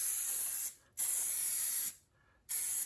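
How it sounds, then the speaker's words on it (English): An aerosol can sprays along the seams of an MG TD car interior during restoration, giving three close, loud hissing bursts separated by brief pauses. "I'm spraying the seam"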